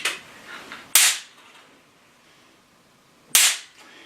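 A device driving a 40,000-volt electrode fires intermittent electric sparks, two sharp loud cracks about two and a half seconds apart, each with a quick decaying sizzle, over faint background hiss.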